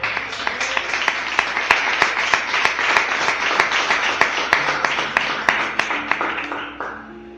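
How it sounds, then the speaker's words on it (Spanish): A church congregation breaks into steady applause for several seconds, with a dense wash of many hands clapping together, a few sharper claps standing out in a rough beat, before it thins and fades near the end as a voice begins. "Den un aplauso a Cristo."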